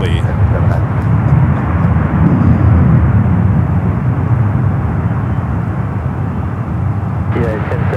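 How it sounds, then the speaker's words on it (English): A Boeing 787-10 Dreamliner takes off at San Francisco airport, a loud, continuous jet roar with rumbling low end that swells and holds steady, with a radio voice and talk briefly at the edges. "the 787-10 Dreamliner"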